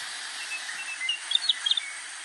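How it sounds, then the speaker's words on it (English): A greater sage grouse gives a quick run of small plunking pops over a steady airy hiss, faint and clustered near the end. "The bird makes the plunk sound."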